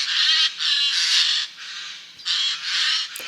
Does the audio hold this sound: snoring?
no